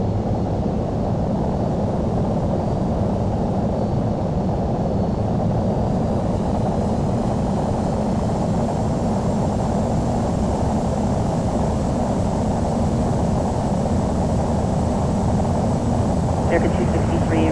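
An American Airlines jet taking off from runway 25 right at LAX, a steady loud broadband engine roar that holds at constant level throughout, with no clear build or fade.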